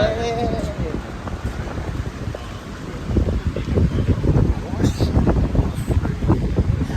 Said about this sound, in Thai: ลมแรงมากคุณผู้ชม